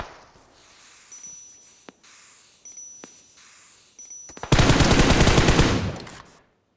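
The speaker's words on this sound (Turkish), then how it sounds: "Bence 2 mermiden fazla vurdum." Rapid automatic gunfire from a PUBG Mobile match, a sustained burst of loud shots after a few isolated single cracks, fairly close and with no talking over it.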